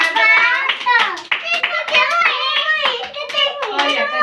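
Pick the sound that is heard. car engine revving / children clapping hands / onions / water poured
children clapping hands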